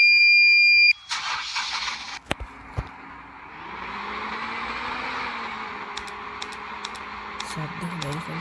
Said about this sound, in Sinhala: සද්ද හොඳයි ෆ්‍රෙන්ඩ්ස් බස් එක.